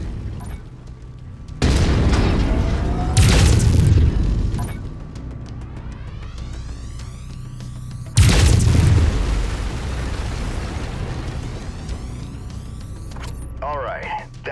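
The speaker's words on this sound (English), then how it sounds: "Lasers are mapped to Weapon Group 2." A mech in MechWarrior 5: Mercenaries fires its lasers in bursts, with two loud blasting volleys that then trail off into long, whining, sweeping tones under steady engine rumble, close and powerful.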